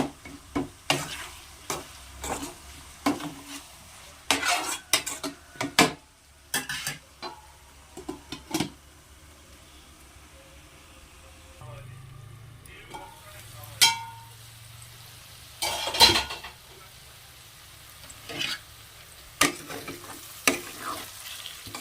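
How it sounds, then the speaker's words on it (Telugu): Ivy gourd and tomato stirred in a pan, with a run of sharp spatula clacks and scrapes against the metal over a quieter background hiss, then a pause, a low thud and a few more knocks. "దీనిలో టమాటా వేసుకుంటున్నా. ఒకసారి తిప్పుకొని మూత పెట్టుకుంటాను."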